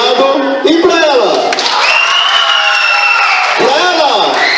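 Audience at a PROERD graduation ceremony shouting and cheering loudly for a graduating girl, with high-pitched whoops and children's voices forming a dense, sustained crowd roar.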